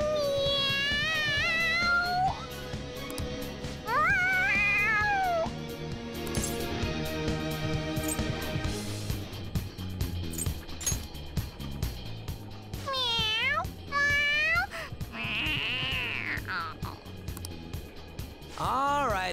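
A cat in the Persona 5 video game meows excitedly in repeated rising and falling calls, several in a row, over game background music, with brief gaps between bursts.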